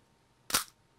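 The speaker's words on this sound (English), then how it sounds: "If I press the shutter now, you will see the shutter go up and close." A single sharp snap of a camera shutter firing at its fastest speed of 1/4000 second, one brief close click standing out against near silence.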